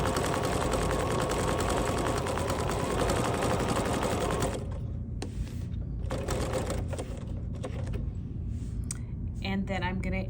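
A sewing machine runs at a fast, steady rattle while stitching around a fabric wedge with variegated thread, then stops about halfway through, followed by intermittent clicks and handling noises as someone talks.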